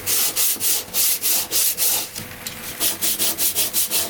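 A wooden cupboard door panel is hand-sanded in quick, even back-and-forth strokes, a loud rasping scrape repeating about twice per second with a brief slower patch midway, close up and with no talking.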